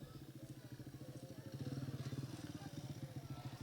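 A motorcycle engine idles nearby in Lahore with a steady, throbbing low pulse that swells a little louder halfway through; voices talk faintly underneath.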